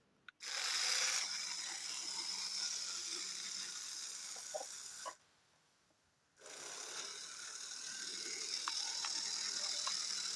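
Small motorized bogie of a Ludmilla model locomotive whirring with a high, buzzing electric-motor rattle, running steadily, cutting out briefly for about a second, then starting up again close by.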